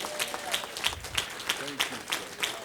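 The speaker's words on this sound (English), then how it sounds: "let's give Danny K. Davis a loving round of applause" Applause for Congressman Danny K. Davis at a leadership gathering, scattered claps in a loose rhythm at moderate volume, with voices talking over them.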